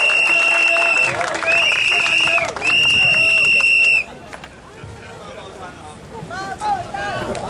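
Crowd applauding at a Singapore political rally for a speaker's introduction, with loud clapping and shrill sustained whistles or horns, then fading into murmuring crowd chatter.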